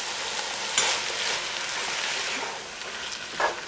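Chicken à la king with yogurt and sour cream being stirred in a pan, giving a soft, steady wet sizzle with faint scrapes of the spoon and a couple of louder stirring bursts.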